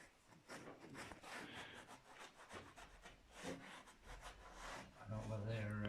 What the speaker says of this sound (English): just cleaning this plate up to reveal the bolts